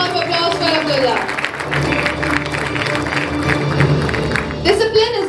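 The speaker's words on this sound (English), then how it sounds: "A warm round of applause for Abdullah." An audience at a school investiture ceremony for the student cabinet applauds a student, a steady wash of many hands clapping under cheers and voices, with a few louder claps near the end.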